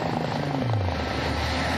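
A rescue helicopter hovers during an emergency airlift at South Bondi beach, its rotor and engine drone loud, steady and close throughout, with no voices.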